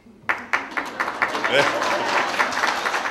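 A crowd at an annual meeting breaks into applause after a moment of quiet, claps starting with a few sharp bursts then swelling into a steady, sustained round.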